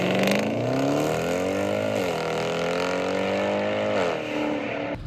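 A Mercedes ML63 AMG engine revs up in short bursts, its pitch climbing and dropping twice, loud and close with a throaty exhaust tone.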